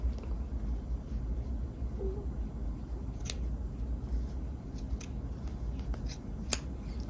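Scissors snip close along the stitching of a jacket front under assembly, a few sharp, quiet cuts spaced irregularly against a soft steady background hum.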